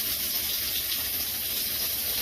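A little water runs from a tap into a bowl of beaten egg in a kitchen, a steady hissing gush lasting the full couple of seconds with no talking.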